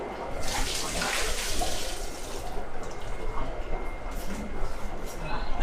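Water drains from an aquarium tank onto a wet fish-room floor, a steady broadband rushing and splashing that holds at a fairly loud level throughout, with no talking.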